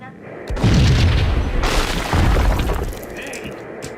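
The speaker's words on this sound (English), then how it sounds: "I thought it was a bomb for sure." A heavy booming bomb explosion from the video game Max Payne hits twice in quick succession, with a glassy shattering crash over it and a loud rumbling tail.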